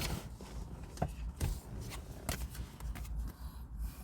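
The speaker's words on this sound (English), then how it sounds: "I don't know if you guys can hear the shuffling." Tarot cards shuffled by hand at close range, a run of soft riffling and slapping bursts with irregular rhythm, fairly quiet and without talk.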